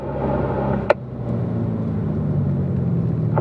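A car braking and downshifting into third gear around a curve at the Spring Mountain race track, heard as a steady close engine rumble with one sharp click near the start.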